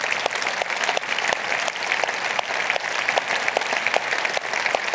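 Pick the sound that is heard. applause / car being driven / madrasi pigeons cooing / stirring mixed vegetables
applause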